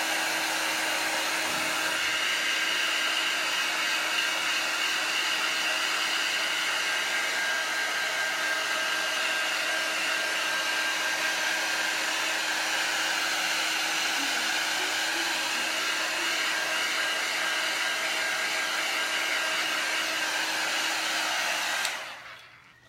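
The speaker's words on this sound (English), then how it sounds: "I am just going to hit this really quick with my heat gun." A heat gun blowing hot air onto paint at a virtual paint party, a steady continuous whooshing hum held for over twenty seconds, close and unbroken, then cutting off abruptly at the end.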